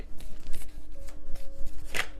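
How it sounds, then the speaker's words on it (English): Tarot cards are shuffled up close in a steady run of soft riffling and papery rustles, with no talk. "While I was shuffling"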